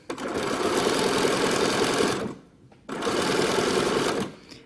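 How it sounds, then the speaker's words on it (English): Sewing machine stitching fabric for a caftan cover-up, running in two steady bursts of about two seconds each, loud and close, with a short pause between them and no talking. "So I'm going to stitch up a little closer first."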